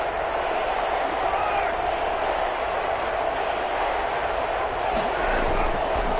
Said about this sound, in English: The crowd here in the Dome making things difficult.